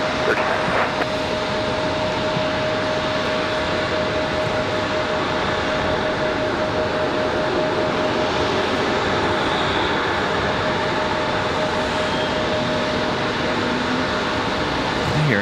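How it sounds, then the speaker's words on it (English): A JetBlue Airbus A220 at Raleigh-Durham International Airport produces a steady, loud engine roar that fills the whole stretch without letup, with a faint tone running beneath it. "That must be our JetBlue A220."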